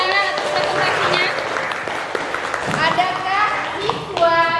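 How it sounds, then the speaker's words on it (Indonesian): Classroom students applaud a group's procedure-text presentation, clapping mixed with lively children's chatter and voices over the top for a few seconds. "Silakan tepuk tangan atas presentasinya."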